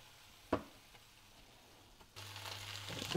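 A pan of drumstick leaves in water begins a steady, bubbling sizzle after a couple of soft taps, the simmering hiss filling the last second alone and close by.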